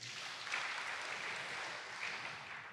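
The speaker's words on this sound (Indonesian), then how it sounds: "Tepuk tangan buat dia." A church congregation claps at a worship service, a faint and steady wash of applause that lasts the whole moment without stopping.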